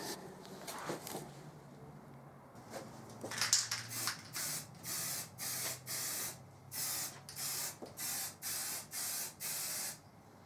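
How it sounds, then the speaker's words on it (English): An aerosol can sprays light dust coats of paint onto a bash plate in repeated short hissing bursts, about half a second each, close and fairly loud. Softer handling noises come before the bursts. "Coming right out from a distance, just so as not to make a wet coat."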